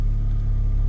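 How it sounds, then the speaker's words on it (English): A Mazda with a K-series engine swap runs steadily with an exhaust leak, giving a low, constant rumbling drone at close range. "have a exhaust leak"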